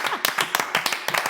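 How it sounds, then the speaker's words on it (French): An audience applauds at a French-speaking gathering, with a brief burst of sharp, uneven claps from several people, fairly close and moderately loud. "Merci d'applaudir pour vous."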